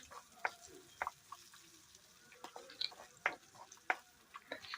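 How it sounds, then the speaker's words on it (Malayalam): Spoon stirring an ivy gourd pickle mixture in a hot pan: a scatter of short, sharp scrapes and clicks at an uneven rhythm, fairly faint and close, with no talk over them. "നല്ലതുപോലെ ഒന്ന് ഇളക്കി യോജിപ്പിച്ച് കൊടുക്കാം"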